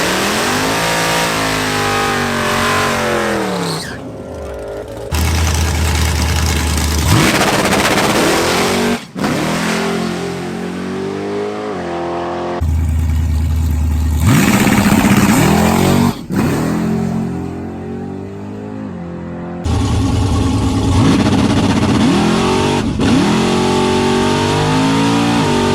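Drag race car with new suspension, launched on the trans brake on an unprepped track: several loud engine runs rev up hard and rise in pitch, broken by short gaps and cuts between runs, close and dominant.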